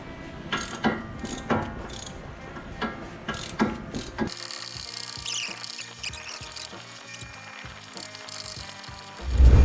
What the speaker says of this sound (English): a breaker bar to remove the brake caliper mounting bracket